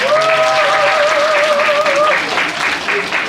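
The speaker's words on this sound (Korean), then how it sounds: "격려의 박수 좀 해주실래요?" Encouraging applause from a high school chapel congregation, loud continuous clapping from a large crowd, with a sustained tonal sound ringing through the first part and voices faintly underneath.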